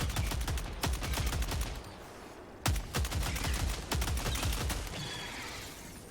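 Rapid bursts of BR-14 rifle gunfire in the video game Helldivers 2, several sharp repeated volleys of shots in quick succession with brief pauses between, loud and close.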